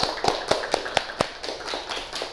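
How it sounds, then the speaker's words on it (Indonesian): Brief scattered applause from a small classroom group: a handful of distinct claps in an uneven rhythm, moderately close and fairly faint. "Boleh tepuk tangan semuanya."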